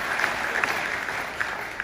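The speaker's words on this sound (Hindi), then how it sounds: "मैं चाहूंगी इनके लिए जोरदार ताली।" An audience in a hall gives its business mentors a burst of loud, dense applause, with a few sharper claps standing out from the steady patter.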